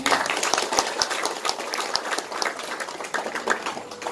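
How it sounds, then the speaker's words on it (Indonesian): An audience at a grand evening halal bihalal gathering in a village neighbourhood claps for the organising committee, a steady wash of crowd applause filling the whole stretch. "Tepuk tangan dulu buat panitia."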